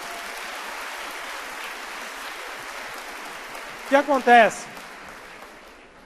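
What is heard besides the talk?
congregation applause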